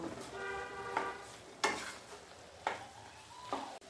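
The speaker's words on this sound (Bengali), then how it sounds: "এবার আমি ভালো করে নাড়িয়ে নেব" A spoon scrapes through spinach curry seasoned with chilli powder, turmeric and salt, giving several distinct stirring strokes over a soft, steady sizzle in the pan.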